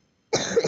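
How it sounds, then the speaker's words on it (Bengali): A single short, close cough that begins abruptly after a moment of silence, during a game session. "হয়তো মেলা কাশি হয়েছে"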